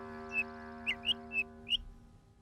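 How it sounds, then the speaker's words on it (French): A little bird chirps five short, bright whistled calls, evenly spaced over a steady tonal musical bed, with no talking. "À cet instant précis, le petit oiseau fit entendre un."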